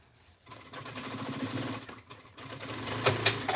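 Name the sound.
sewing machine running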